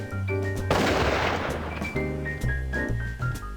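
A single loud gunshot blast in the video game The Dame was Loaded, with a reverberating burst that fades over about a second beneath steady game music.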